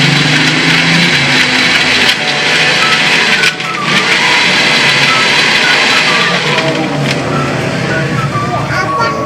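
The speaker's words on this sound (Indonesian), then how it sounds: "Blender." A loud, steady blender motor whir fills the whole stretch as it blends ice, water and sugar for an iced drink, a constant grinding roar.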